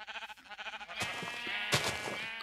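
Sheep in the video game Minecraft bleat in quick wavering cries, two loud bleats standing out clearly over a dense, continuous game soundscape.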